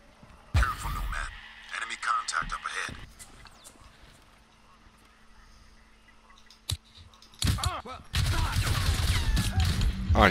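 Gunfire in the shooter game Crysis Remastered, with sharp bursts of shots at the start and a heavy, sustained stretch of firing and combat noise near the end, quieter ambience between and speech mixed in.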